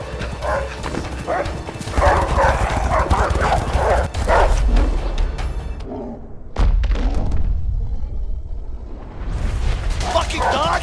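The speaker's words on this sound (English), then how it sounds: "Fucking dog!" A dog barks and chases in the A Way Out video game, with thudding footfalls and scuffling, loud and busy amid frantic shouting voices, then quieter running and rustling.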